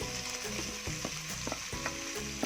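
Chopped shallots, garlic, ginger and green chillies sauté in a pan for clam curry, a continuous close sizzle broken by repeated scraping stir strokes, with no voices.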